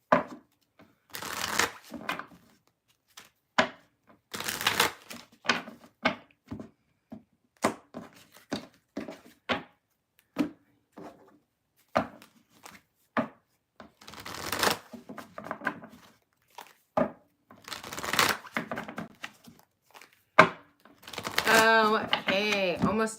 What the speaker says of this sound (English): Just takes me like forever to shuffle.